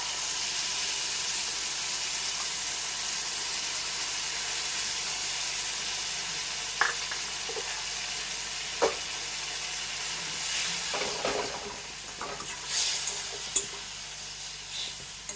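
Spices with turmeric frying in hot oil for a rohu fish curry with nuts, a loud continuous sizzle and hiss that eases later as a spatula scrapes and stirs in scattered strokes, with no voices.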